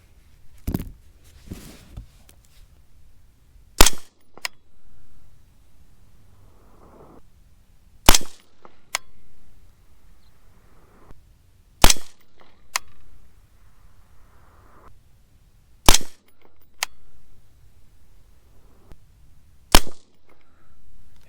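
A .223 Remington gas gun rifle firing 53-grain V-Max loads lets off six sharp, loud shots spaced roughly four seconds apart, with quieter handling clicks and faint movement between them.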